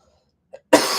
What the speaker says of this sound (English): so I apologize if I cough or you hear me a little hoarse here